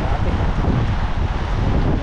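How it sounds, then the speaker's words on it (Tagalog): Strong wind roars steadily against the microphone under a Taiwan typhoon with rain, a dense, loud, continuous rush filling the whole two seconds with no pauses. "May kasamang ulan. Nakahangin."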